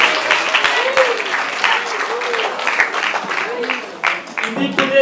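An audience at a school mathematics festival applauds a prize winner with continuous, lively clapping from many hands, fairly close and full, with some voices mixed in.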